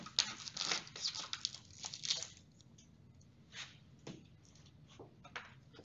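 A small section of onion is cut for a microscope slide, giving soft crunchy crinkling snips and slices in quiet bursts, close and faint, with pauses between cuts and no talking.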